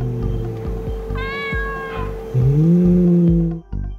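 Three male cats disputing territory at home: several meows and a drawn-out, rising yowl with a tense, whiny tone, loud and close, and no voices present.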